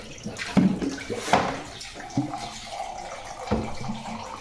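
Waste water flowing out of a Livpure water purifier, a steady low splashing trickle with brief louder gushes and drips, close by with no talking.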